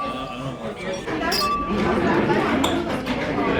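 Glasses of 500 ml dark beer clink together in a toast at a Prague restaurant, a few brief bright clinks amid lively chatter and background voices.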